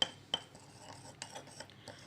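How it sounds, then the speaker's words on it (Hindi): Spoon stirring a homemade skin mask mixture in a small bowl, a few quiet scraping clinks spaced irregularly against the bowl, close and faint with near silence between. "ये देख सकते हैं हमारा मिक्सर तैयार हो चुका है। मज़ीद भी हम इसको मिक्स कर सकते हैं"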